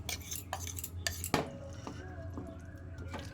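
A spoon clinks and scrapes against a bowl while spice mix is stirred into jujube pickle, with light, close-up knocks and one sharper clink.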